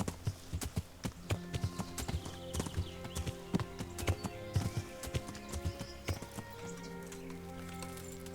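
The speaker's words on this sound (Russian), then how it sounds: "Лошадь." Horse hooves clip-clop in a steady, close run through Kingdom Come: Deliverance, the medieval video game, with sharp repeated strikes over a constant background hum that settles toward the end.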